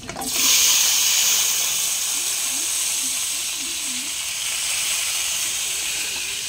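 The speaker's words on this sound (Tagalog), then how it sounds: "Magigisa na tayo mga Mars." Ingredients sizzle in hot oil after frying tilapia, with a loud, steady hiss that bursts in at the start and holds close and constant throughout.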